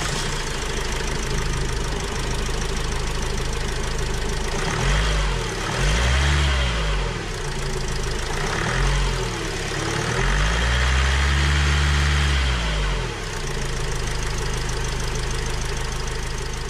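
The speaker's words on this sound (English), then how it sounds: "Now let's start the engine." A Renault Trafic diesel van engine, reassembled after a throttle valve replacement, runs at a steady clattering idle with a few rising and falling revs, loud and close throughout.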